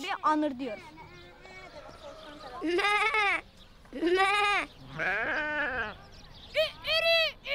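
A child mimics a sheep's bleat with several wavering, quavering cries, loud and close, during a children's game in Turkey, separated by short pauses and one lower call in between.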